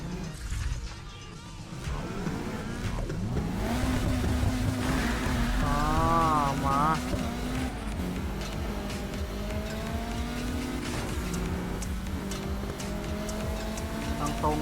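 A Nissan in Need for Speed Heat revs and accelerates, its engine pitch sweeping up through gear changes, loud and continuous, with someone talking over it.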